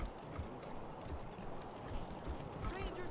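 Horses in a video game give soft hoof clip-clops under a dense, noisy game soundtrack, faint and blended into the background for a few seconds.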